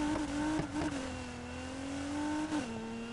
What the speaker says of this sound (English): probably a very loud V6